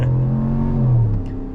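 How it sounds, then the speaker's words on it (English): V8 engine of a 2026 RAM 1500 Limited Longhorn pickup with air suspension, heard from inside as a steady, smooth low rumble that rises slightly and then eases off. "The V8 sounds fantastic."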